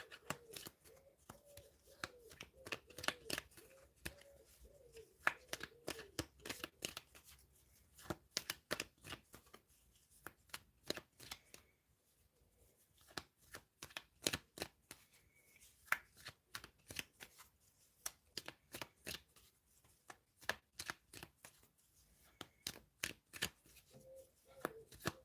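Tarot cards are shuffled for a reading, a long run of quick, crisp riffling and flicking bursts in close, quiet succession with brief pauses between handfuls.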